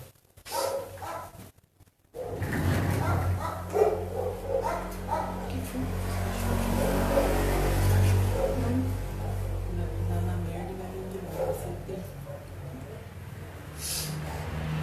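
Dogs bark repeatedly at a distance over a steady low background hum, with occasional yips.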